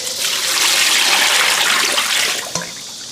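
Water pours steadily from a tap into a pot of raw pork skin, with ginger slices and scallion, for five-spice pork skin, a loud continuous rushing splash that stops with a small knock near the end.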